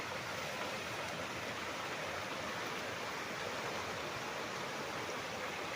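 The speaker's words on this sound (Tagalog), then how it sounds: "Ayan ang ilog mga kaprops." A muddy, rain-swollen river flows beside a farm lot in Liliw, Laguna, a steady rushing wash of water, even and continuous with no voices.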